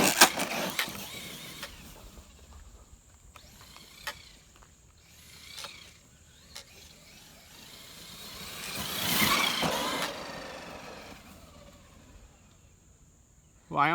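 A Traxxas MAXX radio-controlled truck drives off-road, its electric motor whining and revving in rising and falling bursts, swelling loudest around the middle before easing off, with gravel and dirt crunching beneath.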